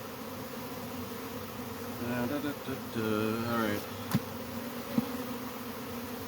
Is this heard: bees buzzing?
yes